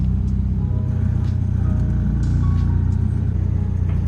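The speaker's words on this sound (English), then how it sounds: "This car takes forever to warm up, bro." Nissan 240SX engine idling steadily while warming up, a continuous low rumble close by with no talking.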